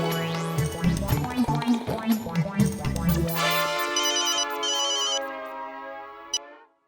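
A phone ringtone for an incoming call plays loudly as a steady melodic tone, starting under a rhythmic musical passage in a Hindi comedy scene and ringing on alone before stopping abruptly.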